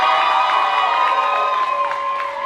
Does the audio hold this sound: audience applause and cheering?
yes